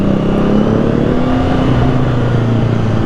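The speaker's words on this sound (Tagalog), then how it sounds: "Tingin ko dahil 3-cylinder to, yan, medyo brusco yung magiging tunog nito pag nag-exhaust." A CF Moto 675SR inline three-cylinder sportbike engine runs loud and close, a steady gruff exhaust note climbing slightly in pitch as it revs over a few seconds, with no other sound.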